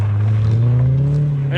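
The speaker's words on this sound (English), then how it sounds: "we're gonna try to pop start it here and tow it." A race car engine drones loud and steady while the car is towed to pop start it, on a lake before a race. The engine note holds and rises slightly, and a brief voice comes at the end.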